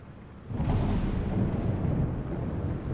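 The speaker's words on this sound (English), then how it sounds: "So I got thunder with partly cloudy skies" Thunder from typhoon weather in a flight simulator over Manila in the Philippines rolls in as a deep, sustained rumble about half a second in. It stays loud and low with no voices.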